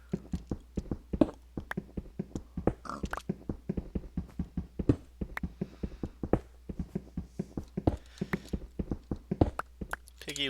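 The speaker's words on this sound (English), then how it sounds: "He's oinking still." Rapid, regular clicking and tapping pulses in Minecraft, with brief oinks from a pig mixed in at moderate, close range.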